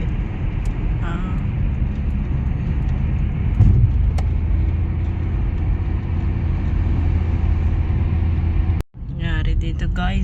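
Continuous road traffic by a bridge, a steady engine and tyre rumble with passing vehicles, a short dropout near the end and some faint talk in the background.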